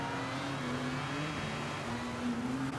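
A Mazda race car in Gran Turismo 7 at a wet Spa circuit whines and revs at steady high pitch with a faint rushing hiss of wheel spin, heard at moderate distance.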